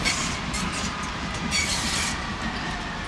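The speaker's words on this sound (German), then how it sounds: "Westbahn 963 von Salzburg Hauptbahnhof fährt ein." Westbahn train pulling into the platform at Wien Hütteldorf station, a steady rumble of rolling wagons and wheels with faint squeals, close and continuous.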